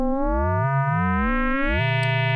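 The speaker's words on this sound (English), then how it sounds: "We can get really cool otherworldly effects when we turn up the amplitude of that modulator sine wave." A steady synthesizer tone built from two sine waves, one frequency-modulating the other on a modular synth, its harmonics sweeping and shifting bright and buzzy, then locking into a rich, sustained buzz, loud and alone.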